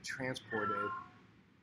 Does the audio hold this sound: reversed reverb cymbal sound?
no